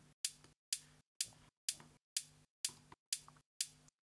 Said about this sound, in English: I use this head kick with filter automation